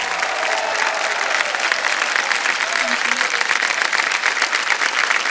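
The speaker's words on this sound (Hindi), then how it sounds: "ताली बज जाए जोर से इनके लिए।" A studio audience at a TV quiz show with Amitabh Bachchan breaks into sustained, dense applause that stays loud and even throughout, with some crowd murmur beneath it.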